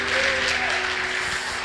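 Church congregation applauding during a sermon, a sustained wash of clapping with a steady tone humming underneath, fairly loud and even from start to finish.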